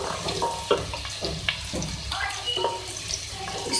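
Garlic and crushed red chillies frying in a pan: a steady close sizzle with scattered small pops and a few scraping stirs.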